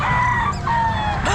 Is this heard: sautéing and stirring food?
no